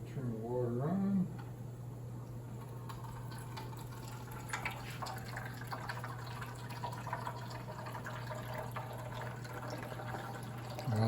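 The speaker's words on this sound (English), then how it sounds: "And I'm going to turn the water on." Water switched on and flowing into a classroom stream table for an erosion lab, a faint steady trickle and drip of running water over a constant low mechanical hum, with a brief voice at the start.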